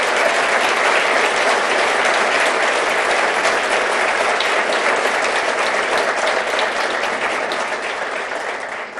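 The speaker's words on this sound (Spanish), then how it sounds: "quiero pedir un aplauso para nuestro ministro de Economía" A large audience at a Fundación FARO event applauds the economy minister with sustained, loud, dense clapping that holds steady and eases slightly at the end.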